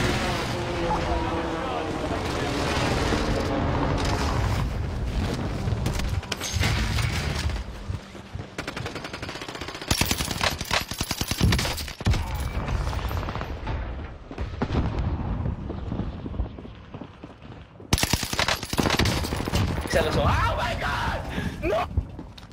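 Gunfire in a video game, with bursts of rapid shots and heavier blasts broken by short pauses, loud and close, with occasional talk over the action.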